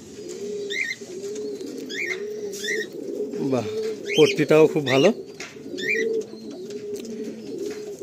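A Madrasi pigeon coos close by at a Kolkata sale, low throaty rolling calls repeating in a steady rhythm through the clip, with someone speaking briefly over the cooing.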